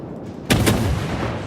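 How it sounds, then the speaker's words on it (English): Naval guns fire in the World of Warships video game, two sharp booming shots in quick succession with a rumbling tail, close and loud. "Let's see if we can get some shots over the top there."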